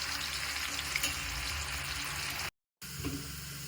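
Moist food spatters and sizzles loudly in hot oil in a pan, a dense continuous crackle broken by a short silent gap before it resumes.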